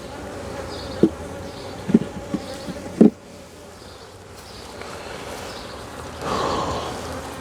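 Honeybees buzzing around a hive that recently swarmed and raised a new queen, a faint steady drone with a few louder thumps and bumps close by and a swell of buzzing near the end.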